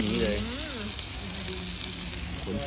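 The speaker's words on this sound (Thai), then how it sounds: "เมนูแรกสเต็กกระทะร้อน คือมันร้อนจริงๆ" Steak sizzles on a hot iron plate at a restaurant, a steady close crackle under a brief voice.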